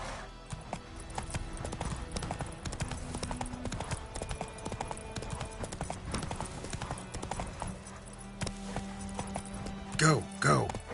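Roach the horse gallops in The Witcher 3, her hooves clip-clopping in a fast continuous rhythm under game music and ambience, with a brief whinny-like burst near the end and a voice talking.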